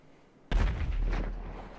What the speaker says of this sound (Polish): Coś uderzy, wybuchło coś.